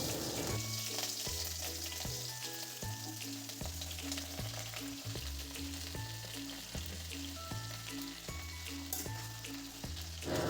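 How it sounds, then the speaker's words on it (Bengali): Chopped vegetables stir-frying in oil with cumin seeds and green chilli for a mixed vegetable curry give a steady, close sizzle, with background music playing throughout. "সবজিগুলো তেলের সাথে ভালো করে নেড়ে নেব"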